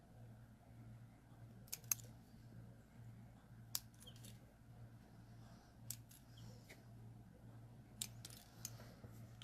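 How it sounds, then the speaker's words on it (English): Faint, crisp snips of regular scissors cutting an artificial nail tip, a few isolated clicks spaced out over a low steady hum. "So now I'm going to cut the nail tip."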